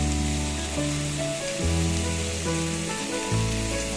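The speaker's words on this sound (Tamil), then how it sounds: "நல்லா எண்ணெயிலே நம்ம வதக்கிக்கலாங்க" Sliced bitter gourd sautés in hot oil with salt, giving a continuous crackling sizzle under a low steady hum, with no voices.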